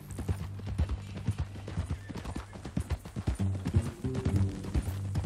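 Horse hooves clip-clop at a walking pace in Red Dead Redemption 2, sharp rhythmic strikes riding over a low droning music bed, with a brief neigh and a snort mixed in.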